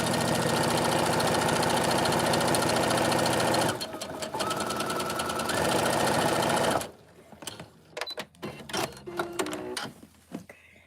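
A sewing machine runs continuously and loudly while stitching fabric, with a brief dip partway through, then stops, leaving scattered handling clicks and light sounds.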